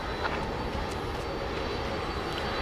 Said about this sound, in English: We'll have a UPS 767 going through this shot momentarily